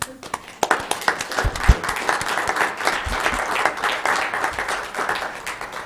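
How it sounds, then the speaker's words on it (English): A county meeting audience applauds a team, scattered claps building into a steady round of applause with a few louder close claps and some voices mixed in. "So let's give them a round of applause."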